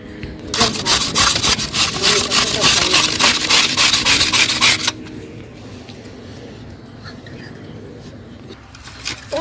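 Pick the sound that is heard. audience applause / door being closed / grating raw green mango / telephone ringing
grating raw green mango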